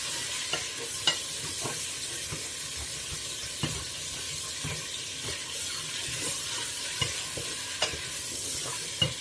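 Pork frying in a pan for a white yam stew, a steady close sizzle and crackle with scattered pops and light stirring scrapes throughout, no talking.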